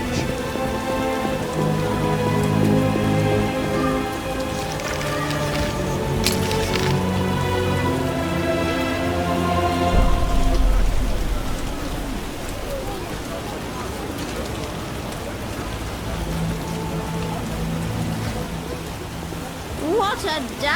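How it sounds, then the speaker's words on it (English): Heavy rain in the video game The Witcher pours steadily in a dense hiss, with a deep rumble midway and some muffled voices in the background. "What a downpour!"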